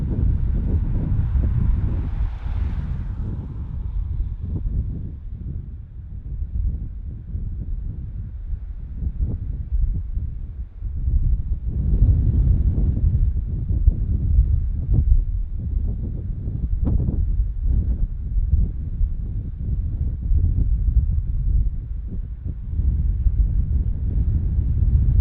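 Strong, gusty wind at Bristol airport during Storm Dudley, buffeting the microphone with a continuous low rumble that swells and eases, loud and steady throughout with no voices.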